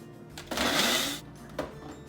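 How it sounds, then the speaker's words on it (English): Home kitchen blender, such as a Ninja, blending yogurt with fruit in a short loud whirring burst of under a second, with a second brief pulse after a pause. "You're going to blend it till it's smooth"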